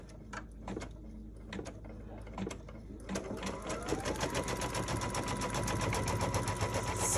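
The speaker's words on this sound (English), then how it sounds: "As you can see, I'm stitching on the tape, but the tape will be easily removed." A sewing machine stitches through tape on a pieced pillow block, first in a few separate slow stitches, then in a fast steady run of close mechanical needle clatter.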